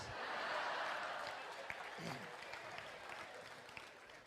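Applause from a classroom audience during a Hindi motivational lecture, a dense wash of many hands clapping that starts strong and slowly thins out, with brief murmurs underneath.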